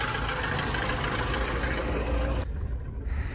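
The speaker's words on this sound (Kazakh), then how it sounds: "Мотор жағы да дірілдеп тұр." A Lada Kalina engine runs at a rough, low idle with the hood open, a dense close rumble that drops away suddenly near the end, with no talking.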